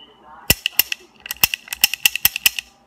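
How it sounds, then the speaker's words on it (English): A toy cap gun fires caps in a rapid, irregular string of sharp, close snaps over a couple of seconds, with faint mechanical clicking between shots. "I have the cap gun."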